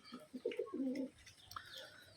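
Pigeons coo close by, a few soft throaty calls in quick succession with a faint chirp afterward.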